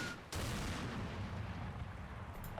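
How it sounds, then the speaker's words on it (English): A sudden explosion cracks and booms in Combat Mission: Battle for Normandy, a World War II game, then rolls into a long low rumble that fades slowly, with no voices over it. "And see where that explosion landed."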